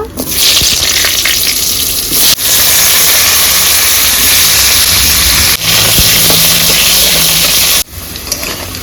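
Cut potatoes frying in hot oil with bay leaves and cumin, a loud steady broadband sizzle that runs almost unbroken, with a few brief dips as the pan is stirred.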